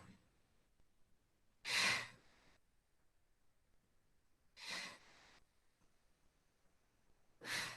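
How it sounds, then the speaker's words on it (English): Three separate heavy exhalations during a fitness workout, each a short breathy rush about three seconds apart, close and clear against a quiet background. "You can hear me heavy breathing."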